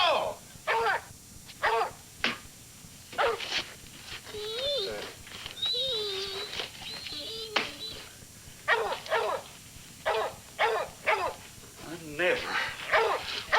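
A dog outdoors at night gives intermittent barks, yips and whimpering whines in short bursts with pauses between them, fairly close, with people talking now and then.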